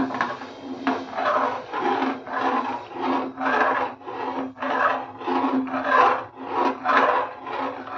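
Rice and milk stirred steadily in a pot over low gas for rice pudding, a rhythmic scraping rasp repeating about once a second, close and moderately loud with no talk.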